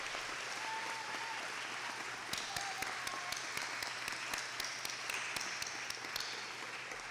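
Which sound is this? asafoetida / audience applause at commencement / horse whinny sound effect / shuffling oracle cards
audience applause at commencement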